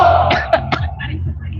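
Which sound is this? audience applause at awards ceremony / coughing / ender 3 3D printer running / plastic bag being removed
coughing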